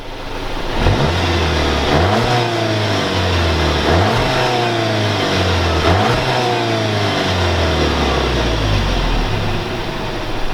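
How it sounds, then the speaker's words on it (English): With the exhaust set to sport mode, a 2020 Volkswagen Jetta GLI is revved repeatedly, each climb and fall roughly two seconds apart above a rumbling idle. The sound is loud and near, and nobody speaks. "Here's sport mode for the exhaust."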